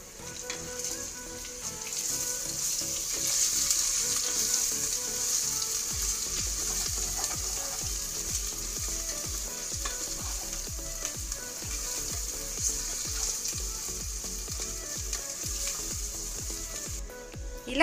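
Rice pulao masala with biryani masala and salt frying in a pan for egg pulao with coconut milk, a steady loud sizzle with scraping stir strokes repeating throughout, no voices.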